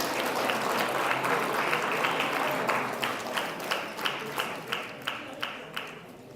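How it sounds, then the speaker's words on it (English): Audience applause after performances at an awards ceremony, a full round of clapping that thins out and settles into slower rhythmic claps in unison toward the end. "Can I have another round of applause for those great performances?"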